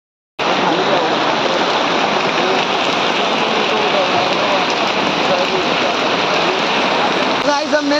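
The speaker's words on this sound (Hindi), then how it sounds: "बहुत देर से बारिश हो रही है" Heavy rain pours steadily and loudly near Har Ki Pauri in Haridwar, a dense continuous hiss that fills the whole stretch, with a few louder splashes right at the end.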